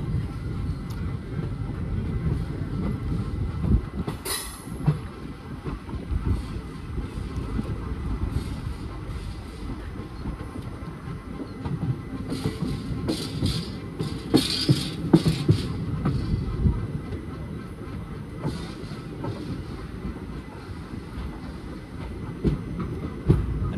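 Train movement at Guntakal Junction: a continuous rumble of rolling wagons with scattered clanks and a sharp metallic bang, fairly loud and steady over about twenty seconds.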